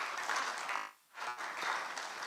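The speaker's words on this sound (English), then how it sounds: "Why not clap for yourselves that you are here?" An audience at a banking and ethics competition grand finale claps, a dense roomy applause that briefly dips to near silence before swelling back up.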